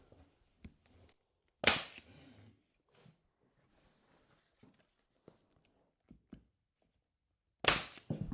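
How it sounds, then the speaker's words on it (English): A staple gun drives 3/8-inch staples through sauna foil vapor barrier on a roof, two sharp, loud snaps several seconds apart with quiet handling noises and faint taps between. "I'm attaching it with the staple gun and 3/8"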